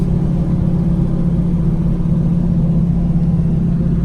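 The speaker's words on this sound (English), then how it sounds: "My car exhaust is really loud." Loud car exhaust drones steadily from inside a moving car on a drive through a rural beach town, with a deep, constant engine rumble and no talking.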